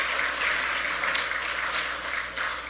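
Applause from a seminar audience welcoming two missionaries, dense continuous clapping held at a fairly loud level throughout, with a couple of brief louder bursts near the start and end.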